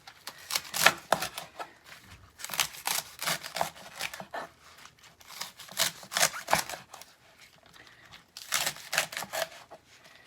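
A knife roughly chops leek leaves on a cutting board in quick crisp bursts of strokes separated by short pauses, close and fairly quiet.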